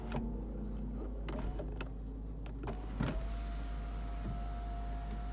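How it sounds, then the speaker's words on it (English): Power sunroof motor in a 2019 Lexus GS F, a faint, low steady whir inside a quiet cabin, with a few small clicks and knocks and a soft clunk near the middle. "you get your sunroof controls, which this one has a sunroof"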